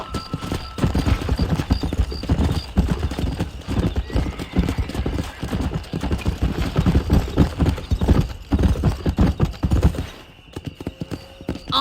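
A horse gallops steadily in the Red Dead Redemption video game, with loud continuous hoofbeats close up, an occasional whinny, and the pounding easing off briefly near the end.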